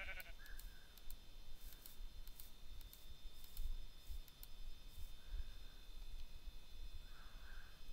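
Sheep in Minecraft bleat a few times, faint and spaced out over a soft background with light clicking and ticking sounds.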